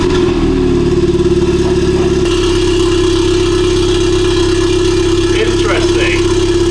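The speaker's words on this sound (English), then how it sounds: "The first start up with the new configuration exhaust." A car engine cranks and catches on its first start with a newly configured exhaust, then settles into a loud, steady idle with a deep exhaust burble.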